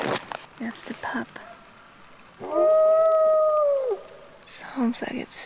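A lone coastal wolf pup howls for its pack, one long wavering tonal howl rising and falling between bursts of whispered talk nearby.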